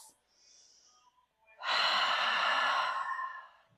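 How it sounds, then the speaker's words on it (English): Deep breath during a yoga flow class, a faint soft inhale followed by a strong, full airy exhale that sounds close and alone for about two seconds. "We're going to take 5 breaths."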